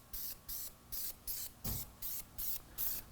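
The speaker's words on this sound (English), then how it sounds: "All the wheels, spray the heavy-duty wheel cleaner." Eight short spray bursts of heavy-duty wheel cleaner onto a 2016 Chevy Tahoe's wheels, each a quick hiss from a trigger sprayer, close and fairly quiet with brief gaps between.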